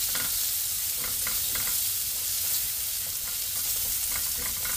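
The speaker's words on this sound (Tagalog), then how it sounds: "igisa lang natin ng maigi, pero wag hayaan na masunog ang bawang para hindi kumait" Garlic and onion sauté in a pan for a pork pata dish, a steady broadband sizzle with occasional stirring scrapes, close and continuous with no talking.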